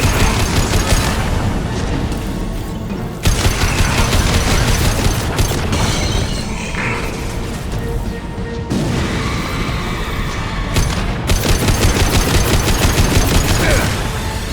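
Heavy anti-ship battery gunfire aboard a Collector vessel in Mass Effect 2, a dense, sustained barrage of loud booming blasts and rapid crashing shots that keeps going with only brief dips.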